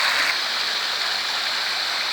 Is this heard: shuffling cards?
no